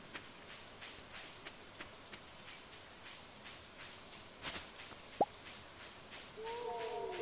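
Steady rain falls in the farming video game Stardew Valley, a soft continuous patter with scattered drip-like ticks and a brief louder splash partway through, with no talking.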